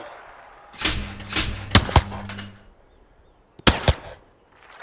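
Shotgun blasts ring out at Olympic clay target shooting at London 2012. A rapid cluster of sharp reports is followed by a pause and then another pair of loud, close shots with a brief echo.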